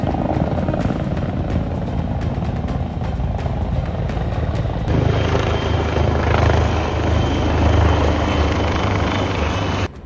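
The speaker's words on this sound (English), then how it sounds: "helicopters were deployed to contain the blaze as flames approached a residential area" A helicopter flies over a wildfire near a residential area in Miami-Dade, Florida, its steady rotor thrum and engine whine loud and continuous, growing denser with a high turbine tone in the second half.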